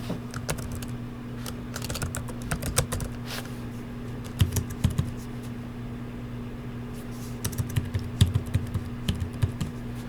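Keys clatter on a computer keyboard as credit card details are entered, with bursts of quick keystrokes, pauses between them, and a steady electrical hum underneath.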